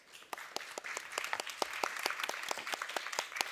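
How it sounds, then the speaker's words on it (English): A small audience at a talk on LARP and design applauds, with many overlapping claps that start softly and build into a steady, fairly distant patter for several seconds. "A round of applause."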